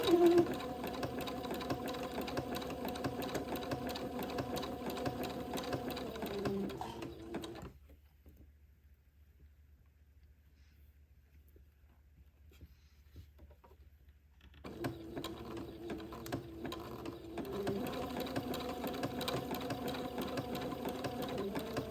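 A sewing machine zigzag-stitches narrow lace onto an entredeux for a baby layette, humming with a fast rhythmic stitch for several seconds, pausing into near silence, then stitching again, close and fairly quiet.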